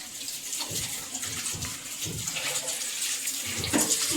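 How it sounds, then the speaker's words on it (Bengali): A tap runs steadily into a sink while hands are washed after rinsing rice, the flow punctuated by splashes and shifting water strikes close by. "ফাইনালি চাল ধোয়া হয়ে গেছে, এদিকে হাত ধুচ্ছে ম্যাডাম।"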